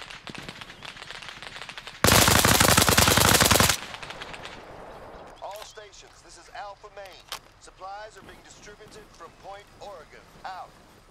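Sniper video game gunfire, a sudden loud burst of rapid shots lasting under two seconds, followed by chirping and crackling game effects while voices talk throughout.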